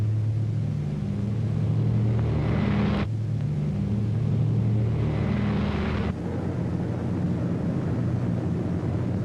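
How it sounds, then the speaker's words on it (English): A WWII RAF bomber drones overhead, a heavy continuous low engine rumble with steady multi-engine tones, swelling twice to a rushing peak before abrupt cuts, with no voices. "In June, Hitler's fortress Europe rocked under the terrific pounding of RAF bombers."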